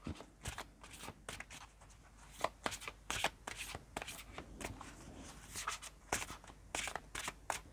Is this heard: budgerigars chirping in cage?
no